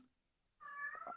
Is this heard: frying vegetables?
no